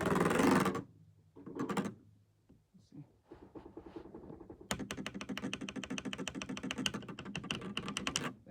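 Fingers type on a very clicky keyboard: first a few scattered taps, then a fast, steady run of sharp, close clicks. Brief talk comes at the start.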